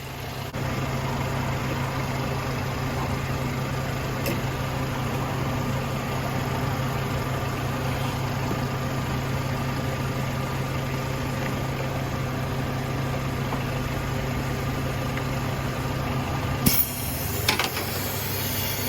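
A car engine idles steadily while Seafoam is fed in through a vacuum hose, a continuous low hum with a constant drone, then a few sharp clicks and a rougher disturbance near the end.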